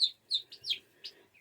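Baby Royal Palm turkey poults and silkie chicks in a brooder give a handful of high, thin peeping chirps in quick irregular succession, close and fairly soft, with no voices over them.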